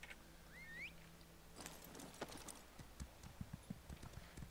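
Quiet rhythmic clip-clop of horse hooves in the video game Elder Scrolls Online in the latter half, soft and clustered, with a faint synthetic chirp and ambient tone earlier.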